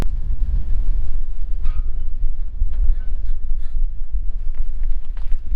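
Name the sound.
strong wind blowing outdoors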